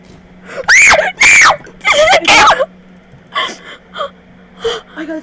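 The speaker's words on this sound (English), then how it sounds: "Dude, I've never screamed louder." A gamer playing Roblox screams loudly in several long, piercing bursts, then breaks into shorter gasping wails and whimpers, close and very loud over a faint steady hum.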